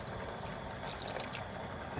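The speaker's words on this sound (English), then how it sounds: "so I'm going to add a little bit more water" Water pours into a pot of thickening shrimp creole, a steady close splashing rush that runs unbroken for the whole moment.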